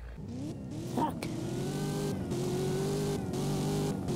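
Car engine in Roblox Driving Empire, a Cadillac-like ten-gear car, revving and pulling through quick gear shifts, with a steady whining engine tone close up and no talking.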